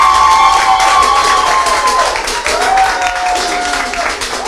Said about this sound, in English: I think you should do a big round of applause for yourselves.